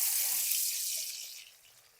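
Garlic frying in oil while cooking a dhaba-style drumstick sabzi, a soft, steady sizzling hiss that thins out and fades toward the end.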